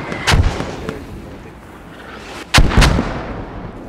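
Artillery rounds fire and impact in the video game Squad, two heavy booming blasts about two seconds apart, loud and near, each trailing off into a rumbling decay with no voices.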